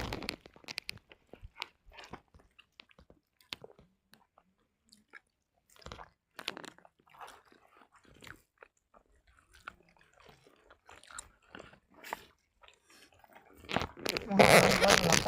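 A person eating rice, with soft close crunching and chewing in scattered bursts amid quiet gaps, ending in a louder rustling burst.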